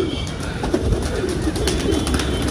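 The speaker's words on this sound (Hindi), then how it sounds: "ये देखिए कबूतर भाई बहुत अच्छा है" A pigeon coos softly near a loft, its low murmuring calls repeating under steady outdoor background noise, with no talking during the calls.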